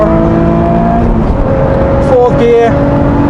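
Loud in-car engine note of a 2017 Lotus Evora GT430 accelerating on a wet circuit, a steady droning rise with a brief dip and wobble from traction control, while someone talks over it.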